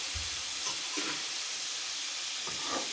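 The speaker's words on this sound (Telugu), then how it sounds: "ఈ తాలింపులో ఈ రొయ్యలను వేసేసి చక్కగా" Prawns sizzling in hot oil tempering in a pan, a soft steady frying hiss with faint stirring scrapes, quiet and close with no talk.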